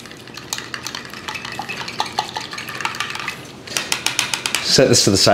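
A whisk beats a mixture in a bowl while making homemade donuts, giving quick, rhythmic clinking strokes against the bowl that grow faster and louder toward the end.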